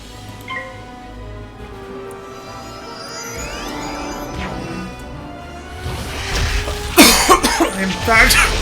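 A person coughs hard a few times close to the microphone, coming in bursts near the end over quiet game music.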